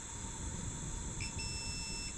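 A multimeter continuity tester gives a short high beep during a fixup of a 1957 Bolens lawn tractor, heard once or twice against steady background hiss with no talking.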